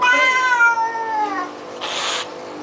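A cat cries loudly during a flea bath, a long drawn-out wailing meow that fades, followed by a brief splash or rustle of water nearby.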